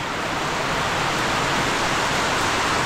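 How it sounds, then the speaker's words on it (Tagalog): Steady, dense rain pouring down in Koronadal City, Philippines, a continuous broadband hiss with no pauses or voices. "umuulan ngayon dito sa Coronadal City."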